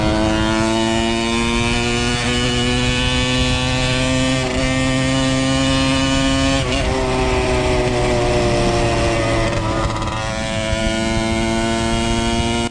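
A water-cooled AM6 motorbike engine cruising up a gradual slope at light throttle, a loud, steady, close droning hum that shifts pitch only slightly throughout.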